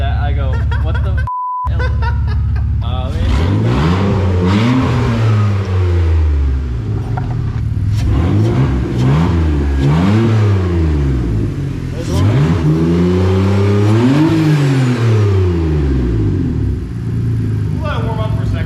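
BMW E46 wagon, freshly manual-swapped and newly tuned, revs repeatedly toward its limiter, each loud rise and fall close by, with a brief beep near the start and people talking over the engine.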